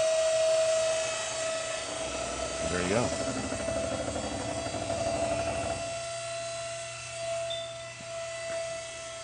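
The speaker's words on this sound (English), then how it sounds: "That noise you hear is obviously the hydraulics bringing it back up." The hydraulics of a lift raising a Daihatsu 660 turbo kei car back upright whine steadily with a constant tone throughout, joined by a rougher, louder grinding stretch in the middle, while someone speaks briefly nearby.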